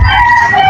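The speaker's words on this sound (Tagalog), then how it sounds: "At ang daming mga manok." A rooster crows in a single short, loud, close burst among chickens in a rural yard beside an unpaved road.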